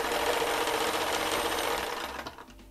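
A vintage Singer 185J sewing machine stitches in a fast, continuous mechanical chatter, loud and close, then slows and stops with a few final clicks.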